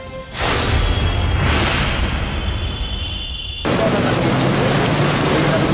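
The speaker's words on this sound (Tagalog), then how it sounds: "Muling bumuhos ang malakas na ulan hindi lang sa Metro Manila" Heavy rain pours down over Metro Manila in a loud, steady roar, its texture changing partway through as the downpour shifts.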